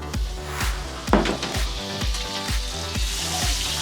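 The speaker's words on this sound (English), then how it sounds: "Butter goes in." Butter sizzles in a hot pan for a prawn dish, a steady close frying hiss under a regular series of soft wooden knocks and scrapes, with no talk.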